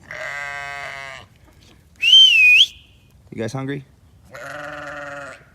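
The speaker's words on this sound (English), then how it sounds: "The quiet and peaceful sheep." Sheep bleating on a farm, with a couple of harmonic calls and a brief whistle-like cry, heard close and clear between a person's short spoken remarks.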